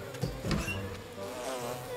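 Cartoon bees buzz steadily around a hive during a beehive rescue, a close, continuous insect drone with slight swells in pitch and loudness, heard alone without talk.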